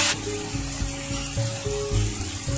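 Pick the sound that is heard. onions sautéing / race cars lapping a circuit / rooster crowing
onions sautéing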